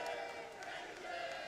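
A large arena crowd at the CS:GO MLG Columbus 2016 grand final sends up a sustained, distant roar of cheering and shouting, steady and somewhat muffled throughout.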